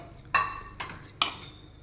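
Spoon clanking against a pot while stirring boiled spinach into black chickpea soup, three sharp metallic knocks at uneven intervals, each ringing briefly before fading, close and fairly quiet.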